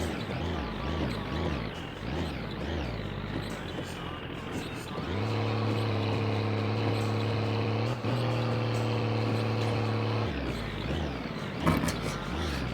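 A heavy truck engine in a video game drones steadily, its pitch rising and settling as the revs change, with a brief clunk near the end.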